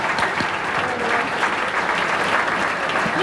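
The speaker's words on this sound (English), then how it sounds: "please stand and give them a round of applause" A banquet-hall audience at the 2015 Heat Athletic Awards Banquet applauds the women's golf team for their silver medal, with dense, steady clapping from a large crowd filling the whole moment.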